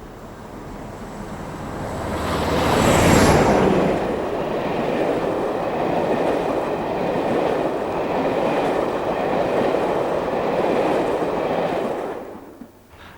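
British Rail locomotive 47814 hauls a loco-hauled Brighton to Edinburgh cross-country passenger train past, a broad rumbling roar that swells as it nears and holds steady for several seconds before fading, with no talk.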